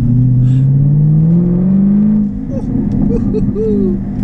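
A Jaguar F-Type R accelerating, its engine note climbing steadily in pitch through a gear before easing off, loud and close, with a few short crackles and blips as revs drop near the end.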